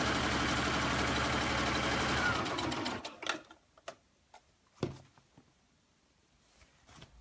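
A sewing machine stitches a skirt hem with a steady whirring run of about three seconds, then stops, leaving a few scattered clicks and knocks.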